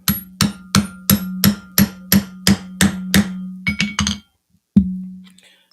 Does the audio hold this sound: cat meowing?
no